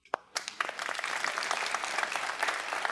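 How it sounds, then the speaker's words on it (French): An audience at a talk about Muslim history in London applauds steadily, the clapping beginning with a few sharp claps and swelling into a sustained, fairly even round of applause heard on its own. "Donnons-lui un coup de main."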